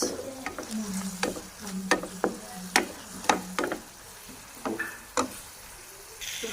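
A spatula stirs soy sauce and red chili sauce through a filling for Chinese bread rolls in a pan, giving sharp, irregular scrapes and taps over a soft, steady sizzle.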